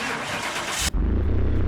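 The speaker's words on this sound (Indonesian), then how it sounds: "Wih, suara turbonya. Keren." A Mitsubishi Eclipse turbo engine cranks and fires up in the game Car Mechanic Simulator 2021, a brief starter whir breaking into a loud, low, steady running rumble.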